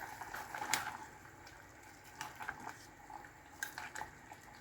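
Sotanghon noodle soup broth heating toward a boil, a faint continuous simmering hiss with soft bubbling and occasional clinks of a pot or utensil.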